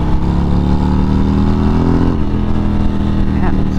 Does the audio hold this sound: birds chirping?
no